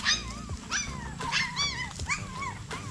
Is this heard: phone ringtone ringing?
no